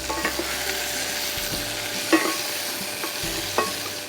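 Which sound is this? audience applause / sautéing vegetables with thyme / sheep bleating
sautéing vegetables with thyme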